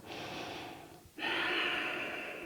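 Deep breathing during a chest-opening yoga pose: a long, close, audible inhale through the nose, a brief pause, then a strong, steady exhale, with no talking.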